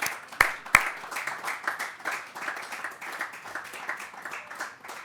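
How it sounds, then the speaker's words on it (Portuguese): A press conference audience gives a round of applause, many hands clapping steadily at a moderate distance for several seconds, opening with a couple of sharp nearby claps. "E mais uma salva de palmas."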